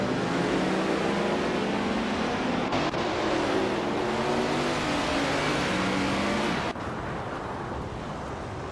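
A 1977 Porsche 936 race car in a racing video game, its engine droning in a loud continuous tone that shifts pitch as it revs, then drops a little quieter toward the end.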